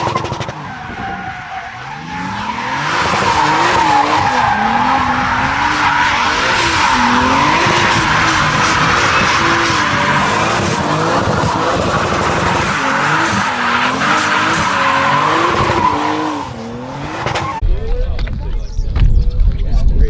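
A modified car with an oil cooler kit is taken on a street test drive, its engine note rising and falling between shifts under a loud squealing, skidding whine, with voices heard over the drive.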